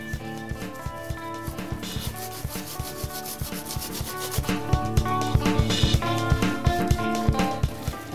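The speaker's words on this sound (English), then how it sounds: "I'm using a little solvent, a little Gamsol, to rub the excess pigment off of the surface of the work and leave the pigment behind" Oil stick pigment being rubbed off the surface of an artwork with Gamsol solvent, a steady close scratchy rubbing with repeated strokes that grow slightly louder and more clipped partway through, with no talking.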